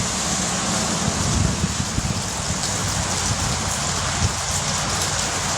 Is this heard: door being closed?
no